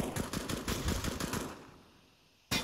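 Gunfire in Counter-Strike during a professional match: a rapid rattling burst of automatic shots that fades into a dull quiet tail, then one more sharp shot right at the end.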